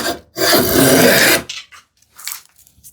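A hand plane shaves wood for a shoe-rack project in one long, loud rasping stroke, followed by a few shorter, lighter scrapes close by.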